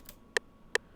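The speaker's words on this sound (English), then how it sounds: "it sounds like this with the metronome" Two crisp metronome clicks, evenly spaced about 0.4 s apart, sound close and clear over a faint sustained background pad, with a softer tick just before them.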